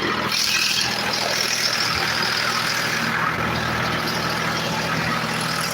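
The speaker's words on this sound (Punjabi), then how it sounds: "ਜਿਹੜਾ ਕਿ ਜਨਰੇਟਰਾਂ ਦੇ ਨਾਲ ਇੱਥੇ ਖੇਤੀ ਨੂੰ ਪਾਣੀ ਦੇਣਾ ਪੈ ਰਿਹਾ ਅੱਜ" A diesel generator engine drones steadily nearby while powering farm irrigation, a constant low rumble with a noisy hiss on top, unbroken throughout.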